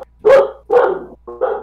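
A dog barks indoors, three loud, close barks spaced roughly half a second apart, the last one slightly shorter and split, with quiet in between and no talk.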